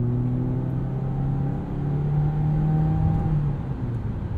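Turbocharged engine of a 2022 Mitsubishi Eclipse Cross SEL 4WD with a CVT, heard from inside while driving: a steady, moderately loud drone with a smooth, even pitch and no shift breaks.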